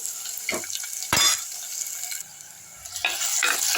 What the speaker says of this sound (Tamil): இதுலேயே கருவேப்பிலையும் போட்டுப்போம் நல்லா செவுக்க வதக்கிட்டோம்